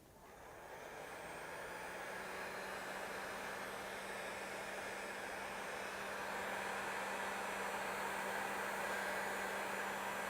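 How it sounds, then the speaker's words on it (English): A hair dryer blows on a wet painting of trees and a meadow, giving a steady, close whooshing roar with a faint motor hum that swells just after it starts and then holds even, with no voices. "we are going to dry it. Dry your trees and your meadow."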